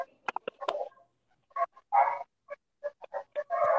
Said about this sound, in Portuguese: Tem um cachorrinho de fundo de algum de vocês.